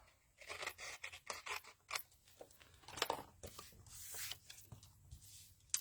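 Scissors trim excess paper from a stamped card, a quick close series of crisp snips and crunchy cuts, fairly quiet, with no one talking.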